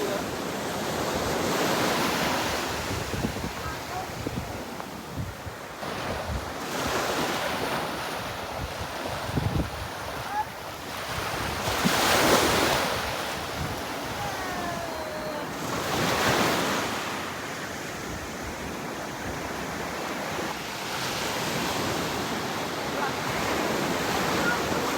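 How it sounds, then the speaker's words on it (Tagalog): Strong ocean surf at Bulabog beach, Boracay, crashes steadily in rolling surges, with heavy wind buffeting the microphone throughout. "Ang lakas ng alon."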